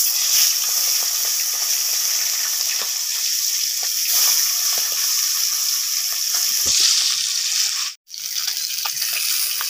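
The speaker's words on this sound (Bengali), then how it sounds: "তেল গরম হয়ে গেছে, এবার মাছগুলোকে ভেজে নেব।" Fish sizzle in hot oil in a kadai as a constant, loud, crackling hiss with small pops, cutting out briefly near the end before resuming.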